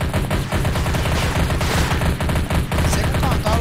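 Loud, dense gunfire from Counter-Strike in its portable version: continuous rapid bursts of shots and rattling fire, with almost no pause across the stretch.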